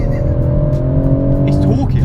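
A BMW M140i launches hard under launch control, its engine note a loud, low droning roar that climbs steadily in pitch as the car pulls away, with faint tire noise.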